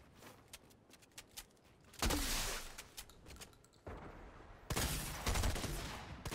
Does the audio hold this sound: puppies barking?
no